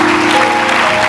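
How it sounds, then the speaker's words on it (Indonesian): A church audience bursts into loud, dense applause, a continuous roar of many hands clapping together, close and full, with no voices on top. "Boleh tepuk tangan yang keras buat Yesus."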